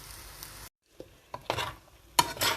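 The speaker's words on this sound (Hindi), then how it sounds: "अब हम इसमें अपना पास्ता डाल देंगे जो कि मैंने ऑलरेडी बॉयल कर रखा हुआ था। डिग जा और इसको भी इसके साथ मिक्स अप कर देंगे।" Boiled pasta being stirred into chicken in a frying pan, with a few separate scrapes and clatters of the utensil against the pan and a soft sizzle, close and clear, with no talking.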